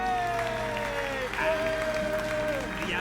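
A crowd applauding in the Hogwarts Legacy video game, a sustained wash of clapping under sustained musical tones and a voice talking.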